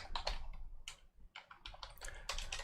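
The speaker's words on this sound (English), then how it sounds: "I'm typing at the same time" Computer keyboard typing, a close run of quick irregular key clicks in short bursts with brief pauses between them, fairly quiet and alone.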